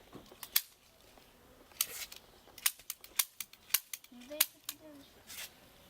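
A toy gun fired without pellets clicks repeatedly in sharp, irregular snaps, about a dozen dry plastic shots close up, with a brief faint voice near the end.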